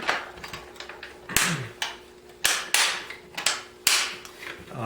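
A series of hard plastic clacks and knocks, close and irregular, as the cover of a Husqvarna 435 chainsaw is fitted and pressed back into place, with faint talk.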